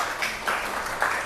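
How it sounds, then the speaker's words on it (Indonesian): An audience applauds three presenters in a classroom, with steady, dense clapping throughout that swells in brief bursts. "Oke, tiga-tiganya tepuk tangan untuk mereka bertiga ya."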